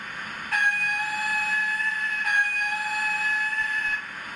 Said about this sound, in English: F2 long whistle.